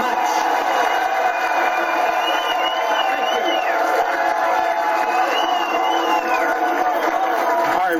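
A large political rally crowd cheering and whooping for Texas congressman Ron Paul after his New Hampshire primary night speech, a steady, dense roar sustained throughout, with a few shrill whistles rising above it.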